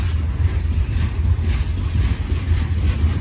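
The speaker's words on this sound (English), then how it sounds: "Can't wait to find out how many cars on this train." Long coal train rolling past at close range near Cresson, Pennsylvania, a steady heavy rumble of loaded cars with rhythmic wheel clatter filling the whole stretch, no voices.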